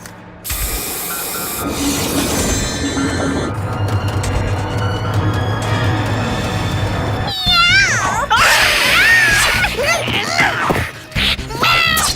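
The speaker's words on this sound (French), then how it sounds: "Vas-y, Alex, mets-lui une bonne pâtée à ce chat" A cartoon cat meows and yowls in a noisy animated fight scene, with scuffling, clanking effects and background music, and the cries rise in wavering squeals near the end.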